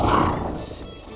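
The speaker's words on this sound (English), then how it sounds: "Strange. Looks like a tiger." A tiger in the Toca Boca World video game lets out a short, rough roar that starts loud and tapers off quickly.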